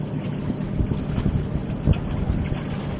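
Outboard-powered sport fishing boats passing on open water during a sail, a steady low engine rumble mixed with wind buffeting the microphone, continuous and moderately loud with no talk.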